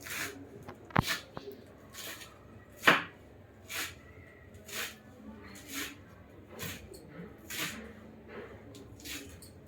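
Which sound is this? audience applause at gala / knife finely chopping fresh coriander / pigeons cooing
knife finely chopping fresh coriander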